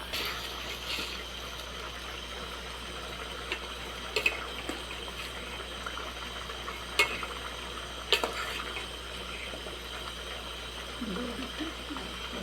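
Dried wheat flour pieces fry together with green gram in a pan, giving a steady, faint sizzling hiss with occasional light utensil clinks and scrapes.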